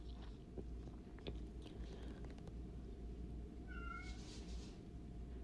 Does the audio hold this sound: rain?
no